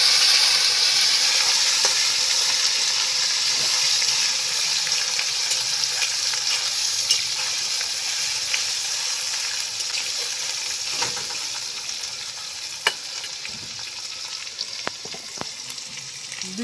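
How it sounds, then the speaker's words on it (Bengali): Potatoes with ginger paste sizzle steadily in hot oil as they are stirred, a continuous close frying hiss broken by occasional clicks and scrapes of the spoon against the pan. "আলুর সঙ্গে আদাটাকে আবারও নেড়ে চেড়ে নেব।"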